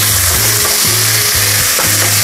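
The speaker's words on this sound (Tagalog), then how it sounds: "lutuin lang po natin ang ating kamatis" Tomatoes fry in a pan for pork adobo, a loud, close, continuous sizzle with rhythmic stirring scrapes repeating about every half second.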